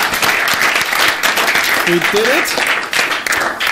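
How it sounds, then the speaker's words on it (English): An audience gives a round of applause at the close of a conference, with a steady, loud roll of clapping and a voice speaking briefly over it. "a round of applause for the rest."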